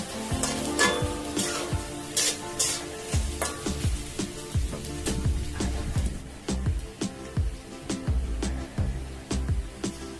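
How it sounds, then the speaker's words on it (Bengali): Onions sizzle softly in mustard oil in a pan beneath repeated sharp clanks and scrapes of a utensil stirring against metal, close by. "এখন পেঁয়াজটা হালকা বাদামি করে ভেজে নেব"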